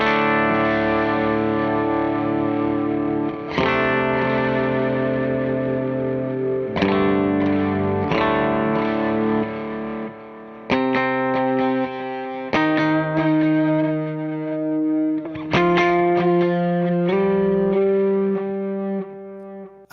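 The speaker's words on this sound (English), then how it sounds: "just see what a little modulation on top of that grit sounds like." Electric guitar through a Meris Mercury X pedal, gritty and modulated, plays a slow sequence of ringing chords and notes, each struck and left to sustain with a shimmering wash, loud and alone.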